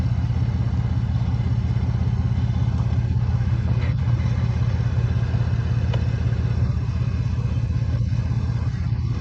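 A Ford Mustang engine running at idle, a steady low throbbing rumble heard close and continuous throughout with a faint clatter on top.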